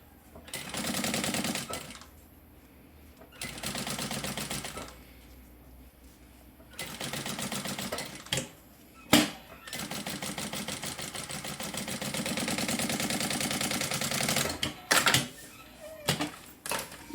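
A sewing machine stitches a fabric cosmetic bag in several bursts of rapid mechanical running, separated by short pauses and a few sharp clicks, close and fairly loud with no talking.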